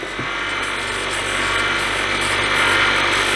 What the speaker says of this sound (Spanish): Aquí vais a ver cómo biselo la goma. Encendemos la máquina.